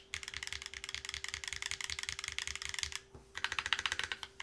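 Close, crisp keystrokes on a modified Eden mechanical keyboard fitted with an R2, typed in fast even bursts with a brief pause before the typing resumes, all over a faint steady hum.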